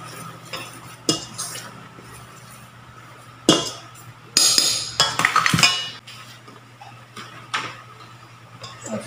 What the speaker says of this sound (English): I mix it together.